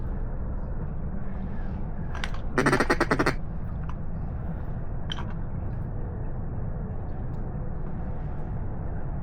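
A short run of loud, raspy mallard duck quacks bursts out over steady wind and outdoor rumble during a thunderstorm duck hunt in Arkansas, followed by a lone fainter quack later.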